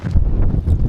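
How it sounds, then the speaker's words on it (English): Gale-force wind buffeting the microphone on a mountain top in the Lake District, a loud, close, continuous low rumble and roar. "when the wind's blowing 50 miles an hour"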